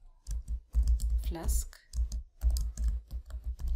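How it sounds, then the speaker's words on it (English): Keys clatter on a computer keyboard in quick, uneven bursts of close clicks while someone talks over the typing. "So the name I'm actually typing in here"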